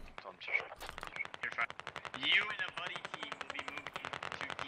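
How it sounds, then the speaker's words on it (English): Rapid automatic gunfire from a squad in the military shooter game Squad, steady bursts of many closely spaced shots with some louder nearby cracks, heard alone without talk. "I wonder what these guys are shooting at."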